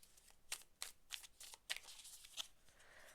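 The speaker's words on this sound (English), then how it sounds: "I love shuffling these cards." Tarot cards being shuffled by hand, heard as a quiet series of quick papery riffles and snaps spaced across a few seconds, with no talking.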